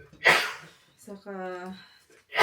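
A single sharp sneeze close by, followed by a person speaking.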